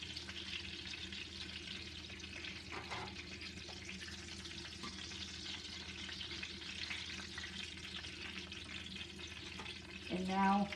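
Steady sizzling of chicken frying in a pan fills the whole stretch, with occasional light scrapes and a brief clatter near the end.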